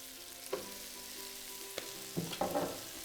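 Thick onion slices sizzle in a burger pan, a steady low frying hiss broken by a few soft clatters as pieces drop and shift, with no talking.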